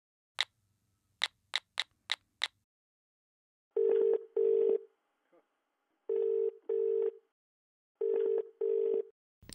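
A phone call is dialed with a quick run of keypad tones, then the line rings out in paired buzzing rings repeating three times with pauses between, with no answer.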